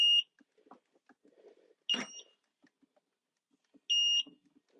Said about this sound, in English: as you can see, it beeped, da-da-da-da.